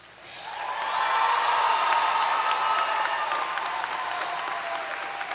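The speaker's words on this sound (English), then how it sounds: "a round of applause for our newest alumni" Graduate commencement crowd at Westfield State applauding new alumni, a broad wash of clapping that swells in over the first second and holds steady, some cheering mixed in.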